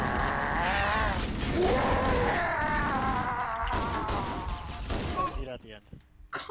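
Gunfire in Halo CE Anniversary during co-op play, with dense, continuous mechanical shooting and crashing effects layered under voices, close and loud throughout before breaking up near the end.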